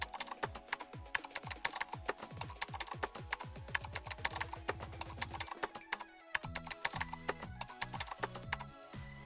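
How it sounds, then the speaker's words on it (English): Fingers type on a computer keyboard, entering a search term on a trading chart website, a fast run of crisp close key clicks with a short pause midway and then another burst, no voices. "Now type in range breakout."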